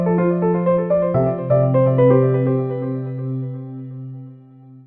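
A short musical promo jingle for a Quotable Ponder segment plays a quick rising run of bright tones, then settles into a sustained chord that rings out and fades.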